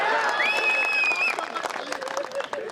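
A crowd at a kavi sammelan poetry gathering in Bilaigarh breaks into applause with a shrill whistle and cheering. The clapping stays loud and continuous, then thins into scattered claps and murmurs.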